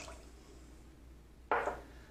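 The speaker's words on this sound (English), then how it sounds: "I'm going to add a cup of water to that." A cup of water is poured into beet liquid for a brine, a short splashing gush that starts abruptly after a quiet stretch and tapers off within a fraction of a second.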